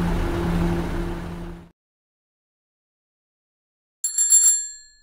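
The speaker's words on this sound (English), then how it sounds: "Bicycle." After an engine rumble fades to silence, a bicycle bell rings briefly, a quick bright double ring that trails off.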